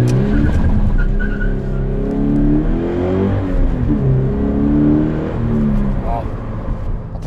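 A Toyota GT86 with a boxer engine accelerates hard, its revs rising and falling in loud, close sweeps as it runs through the gears, with a person talking over the engine noise.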